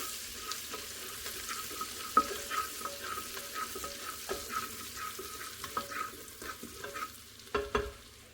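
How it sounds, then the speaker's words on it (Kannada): Ginger and garlic fry in a pan for dal khichdi, a low sizzle under frequent spoon scrapes and light metallic taps that come in an uneven, busy rhythm, with a couple of sharper knocks. "1 ಟೇಬಲ್ ಸ್ಪೂನ್ನು ಗಾರ್ಲಿಕ್ಕನ್ನು ಹಾಕಿದ್ದೀನಿ. ಇದು ಸ್ವಲ್ಪ ಹುರ್ಕೊಳ್ಳೋಣ"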